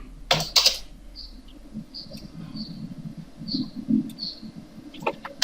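A command being typed on a computer keyboard while working in AutoCAD, a quick run of light key clicks with a few sharper taps, close and clear over a quiet room hum.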